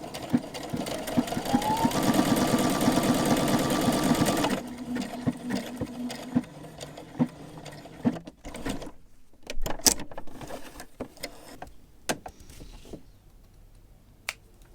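A sewing machine stitches a buttonhole in tablecloth fabric for cargo pants, a loud steady mechanical whir for about four and a half seconds, then quieter clicks and short bursts of handling noise.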